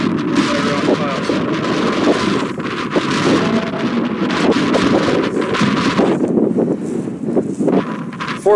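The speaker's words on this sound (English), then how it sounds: "12 mile an hour wind." Steady, loud wind of about 12 miles an hour roars across an open field at a pronghorn hunting spot, buffeting the microphone with continuous gusty rumble that eases slightly near the end.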